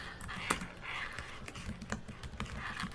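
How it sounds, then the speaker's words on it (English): Quiet, steady typing on a computer keyboard, soft key clicks in an irregular rhythm with a few sharper taps, close by. "Start by typing in your address"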